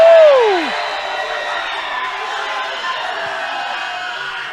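Crowd at a school football match cheering a player's skilful footwork, a steady broad roar of voices holding for several seconds after a brief whistle-like sweep at the start.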